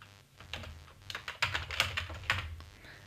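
Computer keyboard typing as a name and email address are entered into a sign-up form, with quick irregular clicks and a few louder key strikes, close and fairly quiet, with no talk.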